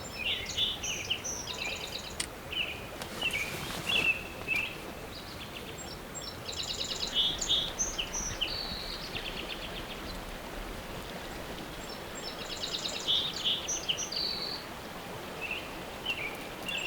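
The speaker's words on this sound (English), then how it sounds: "the first bird to show up to the feeder was the song sparrow" A song sparrow sings at a backyard feeder by a cabin garden in Nova Scotia: a few faint, high chirping phrases come and go over a steady wash of stream-like background noise.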